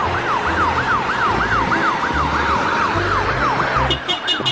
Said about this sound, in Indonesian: ada mobil ambulan